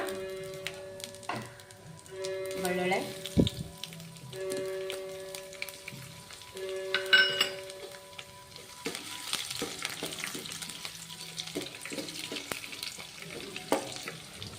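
Garlic frying in a pan for a tomato gojju: a soft crackling sizzle with scattered pops and stirring scrapes, fairly close, with occasional clinks and faint background tones.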